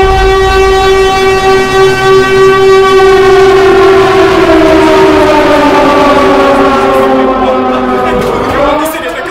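Siren Head's loud, wailing siren-like roar in a video game, a sustained, very loud, droning blare whose pitch slowly slides downward and fades at the end.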